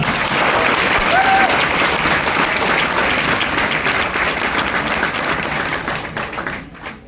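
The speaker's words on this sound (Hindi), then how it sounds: "एक बार साथियों के लिए तालियां बजा दें।" Audience applause for colleagues at a motivational talk in Garhmukteshwar: dense, sustained clapping from a large crowd, steady and loud for several seconds before thinning out and fading at the end.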